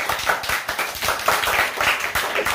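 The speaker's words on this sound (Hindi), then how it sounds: "सब तेज ताली बताओ तेज।" Children in a tuition class clap together after a math table competition, a dense, lively run of quick overlapping hand claps that continues steadily and loudly throughout.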